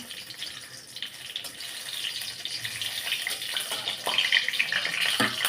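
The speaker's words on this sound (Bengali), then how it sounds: "এবার এখানে তেল দিয়ে দেবো শুকনো লঙ্কা দেবো" Oil heats in a pan as dried red chillies fry, producing a quiet, crackling sizzle that slowly builds in density and loudness, with no talk over it.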